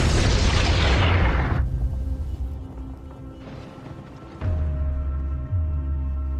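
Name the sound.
explosion in film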